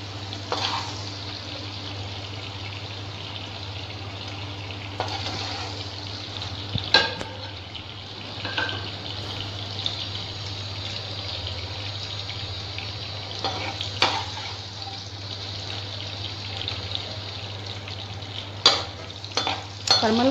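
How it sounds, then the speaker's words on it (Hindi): Pointed gourd (parwal) pieces fry in a pan with a steady hiss, broken by a few scraping stirs and clinks of a spatula; no one talks. "हमारे जो परमल हैं अच्छी तरह से भुन गए हैं, इस तरह से सिकुड़ जाने चाहिए ये।"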